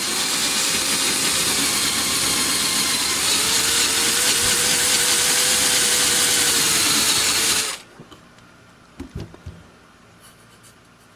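A small 2-inch sanding disc pad on a power tool grinds steadily against a surface, loud and continuous for several seconds before cutting off, followed by a few faint knocks and handling sounds.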